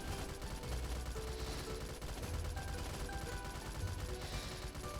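Soldiers fire pistols in a Roblox tower defense game, a dense, continuous crackle of rapid small gunshots under a busy layer of game noise, fairly quiet overall, with no voices.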